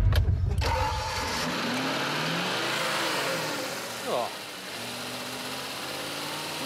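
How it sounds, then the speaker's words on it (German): A Lancia Thema V8 cranks and fires up, then settles into a steady, smooth mid-pitched idle with a brief blip partway through. Someone says a word over the start. "Oh, also man hört, dass es ein Achtzylinder ist, ne?"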